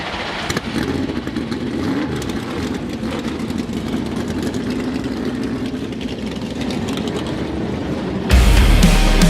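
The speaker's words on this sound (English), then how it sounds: "Start your engine!" Race car engines roar together at the start of the Daytona 500 in the NASCAR 25 video game, a loud, steady rumble held for most of the clip, swelling abruptly louder near the end.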